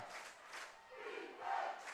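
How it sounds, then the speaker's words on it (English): An exhibition football crowd at a Valley Huskers versus Okanagan Sun game cheering to rally their team, a distant, muffled swell of massed voices rising and falling in waves. "2:54 remaining here in the fourth quarter as the exhibition crowd tries to rally their team."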